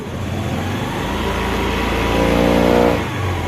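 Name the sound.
Honda Activa scooter engine revving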